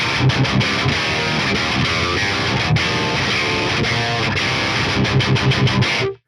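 Heavily overdriven electric guitar through a high-gain plugin, tight and loud with a metallic clank, chugging in rhythmic bursts with short stops throughout before cutting off at the end.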